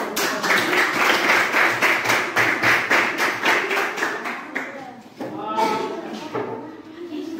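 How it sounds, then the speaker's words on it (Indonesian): A class of students applauds in an eighth-grade social studies lesson, brisk loud clapping for about four seconds that stops abruptly, after which a voice starts talking. "Kita berikan aplaus sekali lagi"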